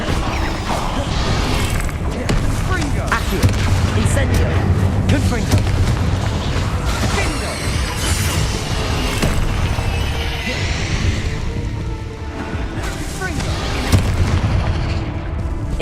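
Fire and blasting spells, Incendio and Confringo, go off repeatedly in Hogwarts Legacy, with booming bursts and crackling impacts over a constant dense game soundscape.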